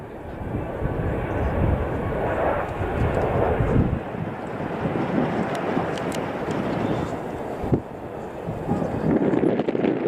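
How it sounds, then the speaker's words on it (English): A Boeing 757 airliner comes in to land too fast with its flaps stuck in the takeoff position, producing a steady, loud broadband jet roar with wind buffeting throughout. "This Boeing 757 was forced to land too fast due to its flaps being stuck in the takeoff position."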